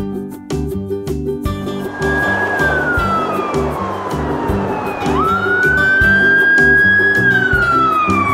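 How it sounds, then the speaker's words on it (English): A wailing ambulance siren sweeps steadily up and down in pitch, loud and continuous throughout, mixed over a repeating low musical beat in a city transport setting. "Ambulance."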